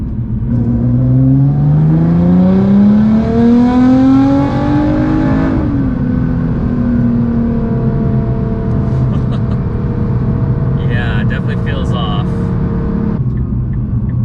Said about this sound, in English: Let's do some third gear pulls, 2200 RPMs all the way up to 6800 RPMs.